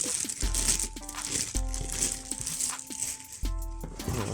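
Plastic wrapping crinkles and crunches around a Kensington QuietType wireless mechanical keyboard as it is unboxed, in close, irregular bursts of rustling.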